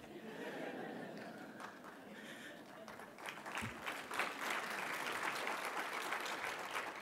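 Audience applauding during a housing summit keynote, a broad steady wash of clapping that builds and fills most of the clip, with some murmuring and light laughter mixed in.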